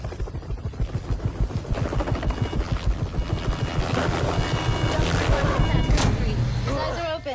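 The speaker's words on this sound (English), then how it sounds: "There's the helicopter" A helicopter's rotor in a scene from The Sopranos thumps in a fast, steady rhythm, growing louder as it approaches, with a sharp bang and speech mixed in near the end.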